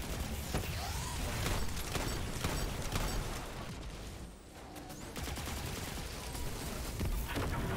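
Rapid gunfire and cannon blasts from a Vex goblin in the Destiny Vault of Glass raid, dense overlapping shots and booms in constant combat, fairly faint overall.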